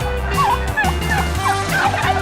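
Several turkeys gobble loudly and repeatedly close by in a pen holding about 80 birds, overlapping warbling calls in quick succession.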